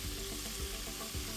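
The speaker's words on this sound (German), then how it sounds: "In der Zwischenzeit, wo ich das Fleisch anbrate," Beef sears in clarified butter in a pot, giving a steady close sizzle and crackle with faint stirring scrapes and no talk.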